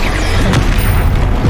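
Bombarda explosion spell cast in the Hogwarts Legacy video game, a loud, dense, broadband blast that fills the whole moment with rumbling crash.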